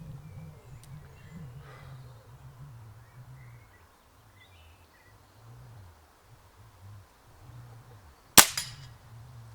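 A single sharp rifle shot cracks once toward targets downrange near the end, loud and close, after a stretch of quiet outdoor ambience with a low rumbling drone.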